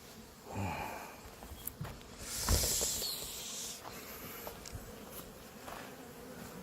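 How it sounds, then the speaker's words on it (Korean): Bees hum in a steady, low buzz close by, with occasional faint rustles and clicks, and no speech. "벌이 있네"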